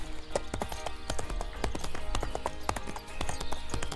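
Horse hooves clip-clop in a steady running rhythm from a vintage hunting video game, repeated hoof strikes continuing throughout at moderate loudness with game ambience beneath.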